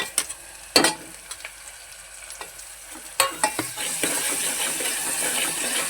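Tomatoes with turmeric and salt being stirred and sautéed in a pan for spicy misal, a steady sizzle rising in the second half beneath scattered spoon scrapes and clinks, close and moderately loud.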